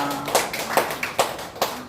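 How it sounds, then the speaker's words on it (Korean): Hands clap in a church service as the congregation thanks two donors: four distinct, evenly spaced claps ring out fairly softly over a quiet room, sparse rather than a full burst of applause. "두 분에게 우리 감사 박수 한번 드리겠습니다."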